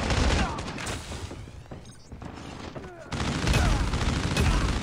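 Rapid gunfire bursts rattle through a Call of Duty Mobile match, dense and loud at first, easing to a thinner stretch, then returning as heavy continuous shooting.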